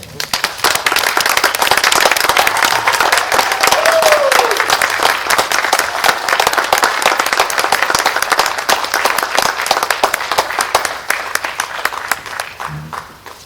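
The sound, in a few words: applause at graduation ceremony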